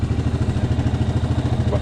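A Yamaha Grizzly 700 SE ATV engine idles close by with a steady, rapid low-pitched throb and light mechanical clatter, holding an even pulse throughout.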